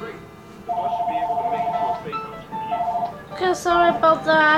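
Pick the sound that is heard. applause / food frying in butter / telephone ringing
telephone ringing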